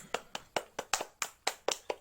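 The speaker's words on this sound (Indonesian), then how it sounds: "Tepuk tangan untuk Nur Aziza." Sharp, isolated claps ring out in a steady rhythm in a primary school classroom, about nine distinct hand claps over two seconds, fairly faint and close with a short room echo.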